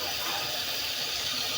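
Fish pieces going into hot oil after ginger and garlic paste, giving a steady, fairly loud sizzle and hiss that holds evenly throughout without a break.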